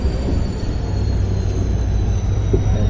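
Passenger special train number 06543 departing Ashokapuram station on the Mysuru to Chamarajanagar line, a steady close rolling rumble of railcars and wheels, continuous and loud throughout with no talk.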